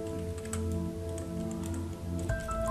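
Quick, irregular keystrokes clatter on a computer keyboard over a faint steady hum, with a brief electronic tone near the end.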